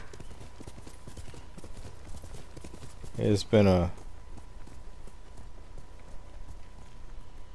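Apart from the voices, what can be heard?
horse hooves clip-clopping, from video game Ghost of Tsushima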